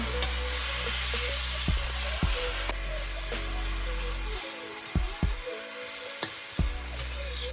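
Chicken curry with fried potatoes sizzling steadily in a pan, with sharp scraping knocks from a stirring spoon recurring every second or so, close and loud.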